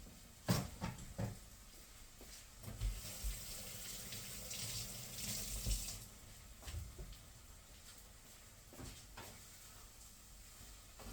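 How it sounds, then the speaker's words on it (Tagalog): Water is poured into corned beef cooking in a pan, giving a soft running splash and gentle sizzle with a few clinks of utensils, fairly faint, with no talking. "Yan po, lagyan ko po siya ng tubig."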